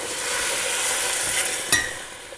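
Canned kidney beans with their juices going into a pot of chili, a steady wet sizzling rush with one brief knock near the end, close and fairly loud.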